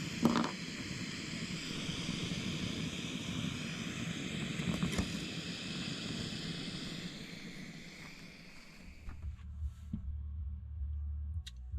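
A camping stove burner roars steadily at an Arizona campsite while breakfast is made, a loud, even hiss that drops to a lower, quieter rumble near the end.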